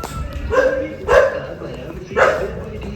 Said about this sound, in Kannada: ನಾಯಿ ನಾಯಿ ನಾಯಿ.